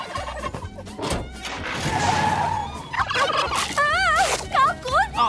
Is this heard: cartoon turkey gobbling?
yes